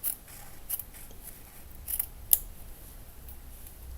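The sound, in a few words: scissors cutting paper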